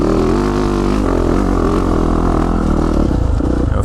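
A Yamaha 450 dirt bike climbing hills, its engine roaring loud and close with steady throttle, rumbling pulses and some clatter as the load shifts.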